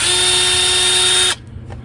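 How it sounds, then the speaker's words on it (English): A reamer tool cutting and beveling the primer pocket of a .223 brass case, giving a loud, steady, high-pitched whirring grind for just over a second before it stops abruptly. "it reams out that primer pocket and puts a nice little bevel on it"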